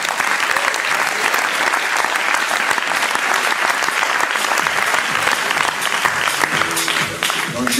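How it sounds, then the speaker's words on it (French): An audience at a Lorient basketball club season presentation applauds a French basketball player with dense, sustained clapping that fills the whole stretch, with faint crowd murmur and a brief tone near the end. "Je vais vous demander de l'applaudir."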